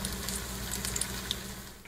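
Food sizzles in cast iron cookware, a faint, steady crackling hiss with tiny pops scattered across a short stretch, no voices.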